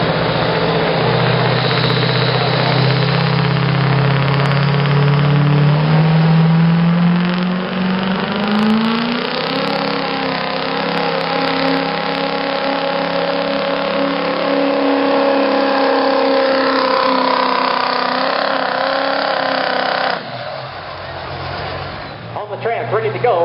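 A 2005 Chevrolet pulling truck revs hard at a county fair truck pull, its loud engine note climbing steadily in pitch for about twenty seconds before dropping off abruptly.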